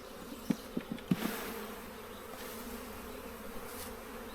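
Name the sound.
honey bees buzzing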